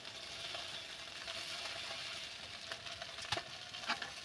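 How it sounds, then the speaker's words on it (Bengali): Rice-flour payesh being stirred in a wok, a soft continuous scraping sizzle with a few sharper clicks of the spoon against the pan near the end, quiet and close with no talking. "এইভাবে আমি নাড়তে থাকবো, না হলে কড়ার তলাতে লেগে যাবে"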